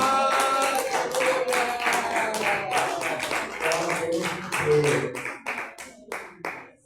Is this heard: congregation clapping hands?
yes